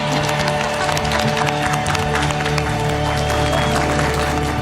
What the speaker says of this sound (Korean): 자, 우리 자랑스러운 대한민국에 박수 한번 칩시다.